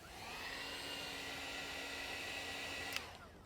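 Heat gun blowing hot air onto vinyl car wrap at a corner, a steady close airflow whir lasting about three seconds before cutting off, with no talking.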